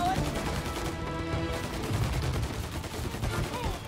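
Tommy gun fire in the video game Mafia: Definitive Edition, a loud, dense and continuous burst of rapid automatic shots with heavy rumble that carries through the whole stretch.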